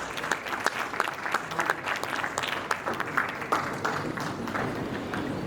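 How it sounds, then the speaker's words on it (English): Sustained audience applause fills a hall at a chimpanzee trust gala dinner at Speke Resort Munyonyo, a dense, even patter of many hands clapping at moderate distance for several seconds. "Another round of applause."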